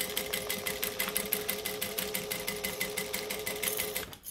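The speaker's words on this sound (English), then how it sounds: "and then I'm going to stitch" A sewing machine stitches minky fabric around a curve, running in a steady, rapid train of needle pulses that stays close and fairly loud throughout before stopping abruptly at the end.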